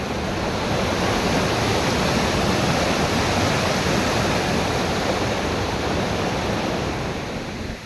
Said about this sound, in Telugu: ఇక్కడ నీళ్ళు వెళ్తున్నాయి, కింద చూపిస్తారండి. చాలా గట్టిగా ఫాస్ట్గా వెళ్తుంది. సౌండ్ వినండి.